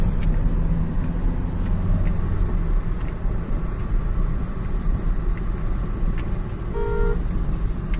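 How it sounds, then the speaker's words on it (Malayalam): A Bengaluru city bus rolls through traffic in a loud, steady road rumble and engine drone, with a short horn toot near the end. "ഇവിടുത്തെ ബസ് BTS."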